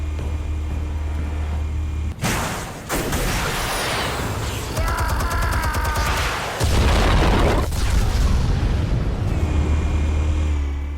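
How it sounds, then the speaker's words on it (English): Explosives detonating in the Batman Telltale video game, a sudden loud boom followed by roaring, crackling debris and rumbling that swells again later over a steady low hum. "Explosives armed. Fire when ready."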